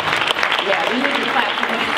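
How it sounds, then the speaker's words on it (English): Audience applause in a studio talk setting, a dense steady patter of clapping filling the whole moment at moderate loudness, with a voice faintly mixed in underneath. "we need to clap for that"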